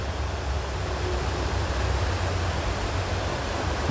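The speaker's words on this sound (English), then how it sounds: "Look at that waterfall." A waterfall on a coast with a falling tide gives a steady, dense, unbroken rush that holds at an even level throughout, with no voices.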